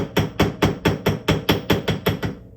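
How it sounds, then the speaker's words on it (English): A hammer strikes jewelry wire wraps on a hard surface, about ten quick, evenly spaced sharp taps in a steady rhythm, close and loud. "Quickly hammer it."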